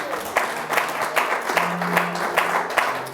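A church congregation applauding and cheering the Lord, producing a dense, continuous wash of clapping with rhythmic accents and a faint voice under it.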